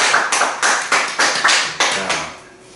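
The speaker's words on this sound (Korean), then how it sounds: "박수로 출발하겠습니다." Audience clapping in unison at a Korean Bible lecture on 1 Thessalonians, about eight loud, evenly spaced claps in a steady rhythm that then fade into quiet.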